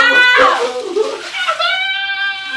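Water sloshes in a freezing ice bath as someone moves around in it, under close, high-pitched voices crying out and shouting.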